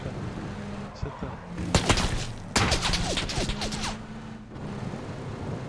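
Rapid bursts of gunfire crackle in PUBG on the Miramar map, two clustered volleys over a steady low engine-like hum.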